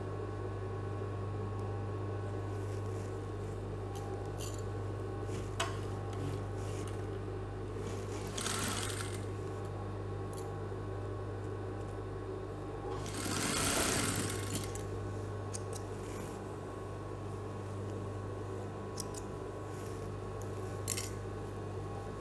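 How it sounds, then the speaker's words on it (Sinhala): A sewing machine stitching a high-neck saree blouse runs as a steady, low mechanical hum throughout, with a brief louder burst of whirring midway and a few small clicks, with no talking. "මහන්න"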